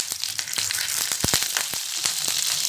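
Poppy seeds sizzle in hot ghee in a kadhai: a steady hiss dotted with sharp, close crackles and pops that come irregularly throughout.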